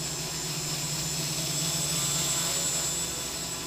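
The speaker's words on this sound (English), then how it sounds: "still got some vibration in the motors that I need to take care of. You can hear it." X525 quadcopter with MultiWii Pro controller flying at night, its motors giving a steady, loud buzzing whine with a persistent high tone and vibration throughout, no talk.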